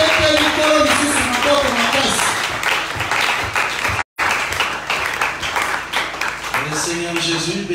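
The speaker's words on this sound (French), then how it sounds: "Nous acclamons encore le Seigneur Jésus-Christ." A church congregation applauds during a French-language worship service, sustained loud clapping running nearly throughout with music and voices underneath, broken by one very brief dropout.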